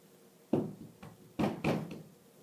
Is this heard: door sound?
yes